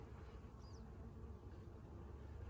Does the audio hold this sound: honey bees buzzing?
yes